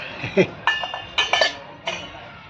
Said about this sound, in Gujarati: વાસણ ધોવે છે.